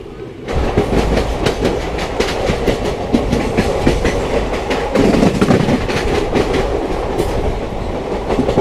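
Intercity Express 14123/24 running between Kanpur and Lucknow, with a steady loud rumble of the moving train and continuous clickety-clack of wheels over rail joints throughout.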